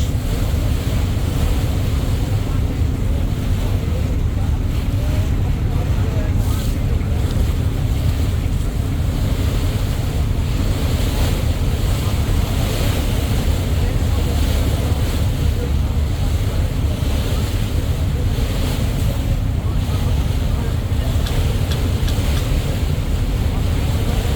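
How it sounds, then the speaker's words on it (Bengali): A river passenger launch races along the water, overtaking other launches, with a steady loud roar of engine, churning water and wind buffeting the microphone throughout. "টানে আটটি লঞ্চ ওভারটেক করে আমরা এখন আরও অগ্রগামী ভূমিকা অবতীর্ণ হয়েছি"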